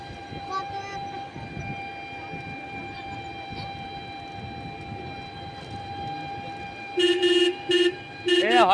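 A toy train's electronic horn sounds three times in short bursts, loud and close, over a steady hum and background chatter.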